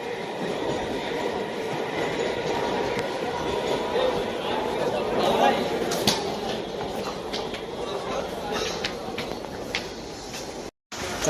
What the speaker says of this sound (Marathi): 10:39 ट्रेन लागली आहे।